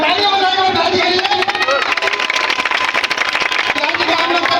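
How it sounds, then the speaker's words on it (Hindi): A crowd at a Bhim Army political rally claps in welcome for Bihar ji, dense and continuous, mixed with loud voices and general babble. "आइए बिहार जी के साथ करो तालियां बजाकर बिहार जी के लिए"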